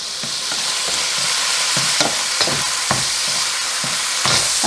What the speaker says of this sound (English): I'm going to add 1 pound of ground beef to my pan, and I'll cook that for 5 to 7 minutes